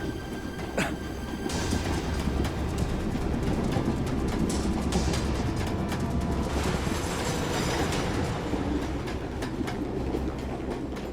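A moving train rumbles steadily and loudly throughout, with rhythmic rail clatter and a brief sharp metallic squeal near the start, in a scene from the TV crime drama CID.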